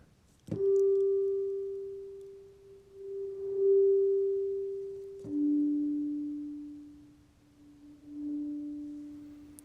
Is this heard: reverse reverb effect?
yes